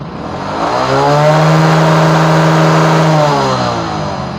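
A motorcycle engine is revved up close during a headlight voltage test, climbing to a loud steady high-rev drone held for about two seconds before dropping back, with no one talking.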